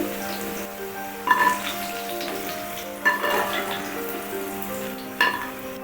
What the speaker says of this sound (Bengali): কিছুক্ষণ সময় ধরে উল্টে পাল্টে ব্রাউন কালার করে ভেজে নিয়েছি